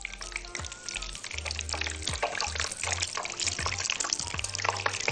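Meat patties with an egg filling frying in hot oil, a continuous crackling sizzle with occasional scrapes and low clunks of a utensil moving them in the pan, moderately close with no talking.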